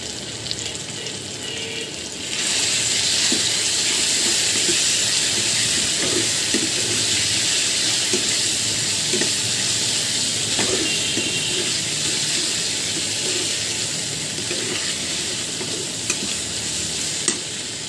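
Spices sizzling in a pan of browned fried onions, a steady loud frying hiss with faint stirring scrapes, no voices.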